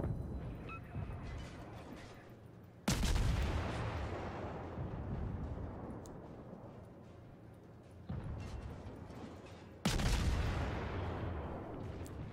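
Ship guns fire at a destroyer in World of Warships, three heavy booming salvos with long rumbling decays, spaced several seconds apart, no speech.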